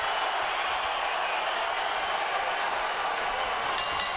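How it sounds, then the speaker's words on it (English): A large fight crowd in an Anaheim arena cheers and applauds at a boxing card, a dense, continuous roar of voices and clapping spread wide, with a commentator speaking over it. "Listen to this crowd here in Anaheim."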